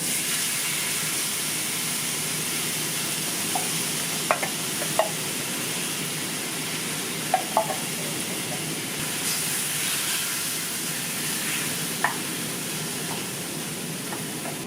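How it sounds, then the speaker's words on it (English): Meatless chili with flour and canned tomatoes is stirred in a pot, giving a steady hiss and sizzle with a few faint clicks from the spoon against the pot. "Stir it all around."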